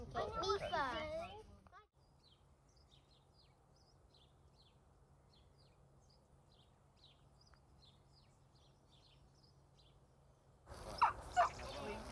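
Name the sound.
chickens crowing and clucking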